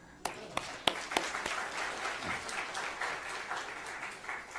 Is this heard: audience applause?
yes